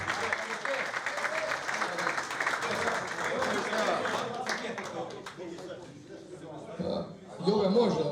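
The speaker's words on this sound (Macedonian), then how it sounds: "еден аплауз за Аца Новичич." An audience at a reunion of generations for the Teteks club in Tetovo applauds goalkeeper Aca Novičić, with steady clapping that thins out, crowd chatter and voices mixed in, and a louder burst near the end.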